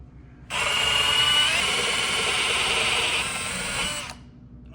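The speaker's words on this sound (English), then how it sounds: "I cobbled together a very long drill bit, 1/2-inch spade bit, and 2 extensions from the socket set" A long half-inch spade bit on socket extensions, driven by a power drill, bores through a wooden header in the wall with one steady, loud grinding whir lasting about three and a half seconds before it stops.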